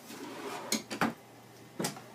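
A deep solid wood kitchen drawer slides and thumps, giving a few soft knocks and a short rumble, quiet and close inside a Gulf Stream Champagne 28RBB travel trailer.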